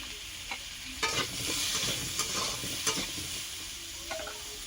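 Potatoes fry in a pan with salt and turmeric, producing a steady sizzle with several sharp stirring scrapes and clatters of a utensil.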